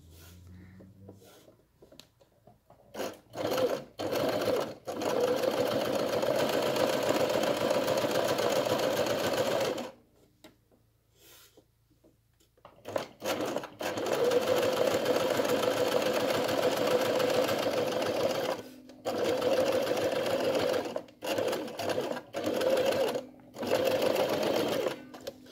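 Sewing machine stitching a Moscow-style (American) seam, running in long, steady whirring bursts separated by short pauses and quiet stretches.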